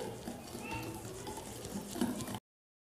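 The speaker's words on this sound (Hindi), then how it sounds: "अब ये जो ड्राई इंग्रेडिएंट्स हैं इनको हम धीरे धीरे करके इसमें ऐड करेंगे और इसे मिक्स करते जाएंगे।" Dry ingredients being mixed into an eggless coconut cake batter in a bowl: a quiet, steady scraping and stirring swish that runs continuously for about two seconds before cutting off.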